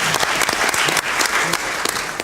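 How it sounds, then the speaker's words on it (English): Applause from a hall audience at a panel Q&A session, a dense steady wash of many hands clapping at close range and fairly loud throughout, with no talk over it. "And a big round of applause to all the women in this hall"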